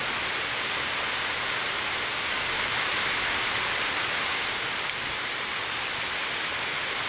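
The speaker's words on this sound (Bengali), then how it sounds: "দেখেন যে পরিমাণে বৃষ্টি ভাই" Heavy rain pours steadily in Ulipur, Kurigram, heard from a veranda as a dense, uniform hiss that stays loud throughout with no voices.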